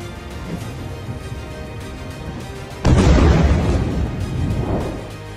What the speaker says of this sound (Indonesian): rudal dikerahkan Iran berhasil jatuh ke daratan hingga membuat ledakan cukup besar